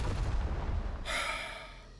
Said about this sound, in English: there was an explosion there